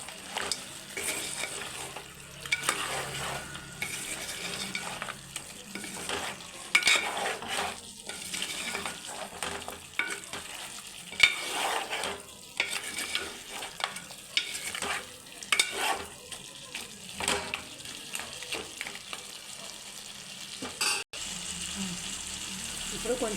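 A mutton gongura curry is stirred in a pan with a spoon, giving steady scraping and sloshing strokes with a soft sizzle underneath, close and moderately loud for the whole stretch, with no talking.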